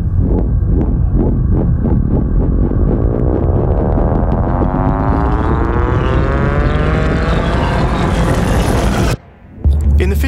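A gas stove lighting sound, played backwards and slowed, becomes a loud, throbbing, rising drone with pulsing beats that swell into a sweeping whoosh before cutting off abruptly near the end.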